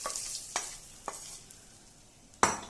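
Tempering of green chillies and curry leaves for a kosambari salad sizzles and fries in a pan as a steady hiss, broken by four sharp stirring scrapes, the last one loudest.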